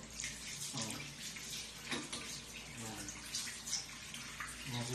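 Water runs steadily from a tap in hotel maintenance work, a continuous loud splashing hiss that carries on without a break.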